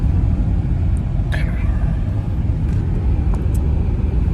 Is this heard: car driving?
yes